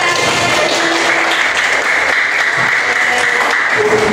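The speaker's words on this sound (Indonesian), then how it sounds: "Oke, tepuk tangan buat kita semua." A class of schoolchildren applauds together in a classroom, a dense, steady burst of clapping that stays loud and even from start to finish.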